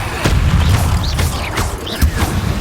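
The Incendio fire spell is cast in Hogwarts Legacy as a run of booming, crackling magical blasts, loud and close, with fast whooshing bursts following one another over a deep rumbling low end and no talk.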